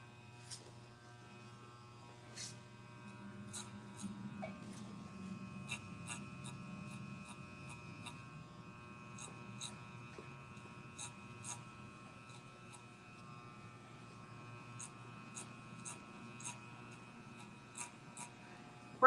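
Electric hair clippers fitted with a number 2 guard buzz through hair during a haircut, giving a steady, faint mains-like hum with light scattered ticks throughout.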